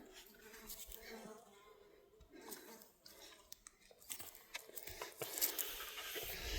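Insects buzz around on a mountaintop, a steady outdoor drone with faint irregular hums and small ticks and taps close by, no talk, growing a bit busier toward the end.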